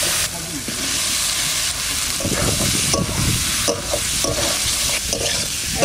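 Turmeric and Kashmiri chilli powder fry in a pan for a village-style fish curry, a steady close sizzle broken by scraping stirs of a spatula, no voices.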